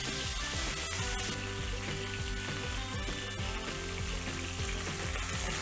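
Beef strips searing in hot oil in a pan for a beef chow mein, a loud, dense, continuous sizzle heard close up with no talking.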